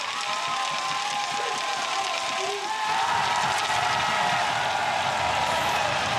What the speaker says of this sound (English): Large German crowd urging this young athlete on.